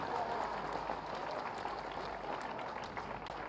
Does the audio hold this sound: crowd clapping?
yes